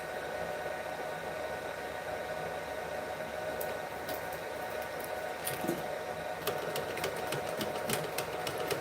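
A sewing machine runs steadily while back stitching, a continuous mechanical whir with scattered ticks and clicks growing busier toward the end; no one speaks.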